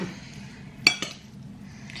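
Utensils and dishes clink while a home meal with cheese is being set out, a few sharp metallic taps near the middle of a quiet room, with a final click at the end.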